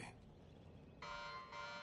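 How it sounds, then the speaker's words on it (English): In the video game Knockout City, an alarm sounds as a couple of bright electronic buzzer blasts with a brief gap between them, fairly faint over a low game-ambience bed, and nobody speaks. "An alarm."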